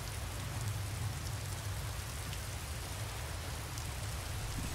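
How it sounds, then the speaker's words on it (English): Steady rain pouring outdoors in the Skyrim video game, a dense unbroken hiss of falling drops with a low rumble underneath, constant and even throughout. "Raining on top of everything else."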